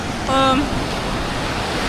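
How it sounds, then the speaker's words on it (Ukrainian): Sea waves breaking on the beach at Da Nang, Vietnam, with an active swell: a steady broad wash of surf fills the whole stretch, with a brief tonal voice-like sound briefly above it. "Сьогодні і ось цей тиждень хвиля досить активна на морі."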